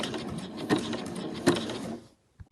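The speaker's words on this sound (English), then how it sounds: "I want to just go back over my stitches just a little bit, do a back stitch, and we're done" A sewing machine runs a short back stitch over fabric, a steady mechanical whir with two small knocks. It stops after about two seconds, followed by one faint click.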